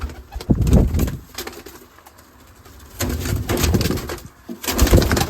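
Pigeons from a Sivas flying breed coo in repeated low, throaty bursts, with quieter pauses between them and no voices.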